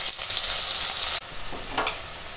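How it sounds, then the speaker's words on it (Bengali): Chopped onions fry in oil left over from frying fish, a close, continuous sizzle with a brief stir and a clink partway through, no talking. "পেঁয়াজটা একটু ভেজে নেব লাল লাল করে একেবারে।"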